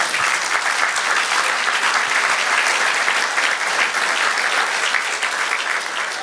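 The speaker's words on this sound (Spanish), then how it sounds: "Dar un aplauso al Señor" Congregation in a church service applauding, a steady, dense wash of many hands clapping at full strength throughout, with no voices standing out.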